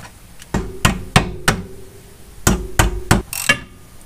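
Sharp metallic strikes from tools working a camber bolt on a Subaru suspension during a coilover lift, in two close bursts of four, loud and near with quiet gaps between.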